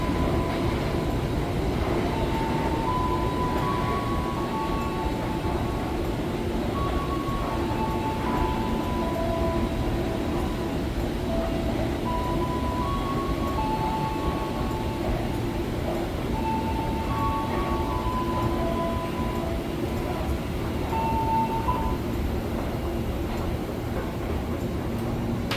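A steady low rumble of a KRL commuter train rolling past at Tanah Abang station, Jakarta, with faint squealing tones from the wheels drifting above it, continuous and moderately loud throughout.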